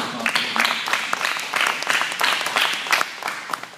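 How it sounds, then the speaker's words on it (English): Audience applause at a Houston press conference about Trayvon Martin, a steady patter of many hands clapping with bursts of cheering shouts rising through it, moderately loud and continuous. "Let's give Sister Krystal Muhammad a round of applause"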